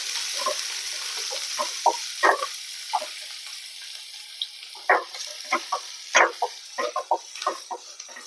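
Whole spices fry in hot oil for a prawn gravy, a steady close hiss punctuated by frequent sharp pops and crackles of varying loudness.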